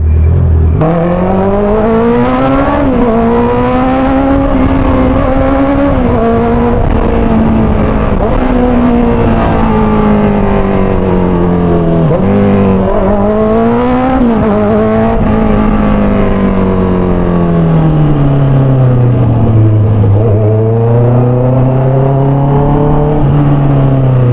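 A Honda CBR motorcycle engine rumbles loudly and continuously inside a tunnel, its pitch rising and falling with throttle changes, with a boomy, enclosed resonance and no voices.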